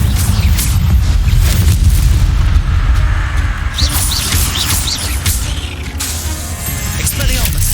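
Incendio fire spell blasts in Hogwarts Legacy, set in Azkaban: loud, continuous booming rumble with crackling, chirpy magical effects layered over it, swelling and fading across several seconds.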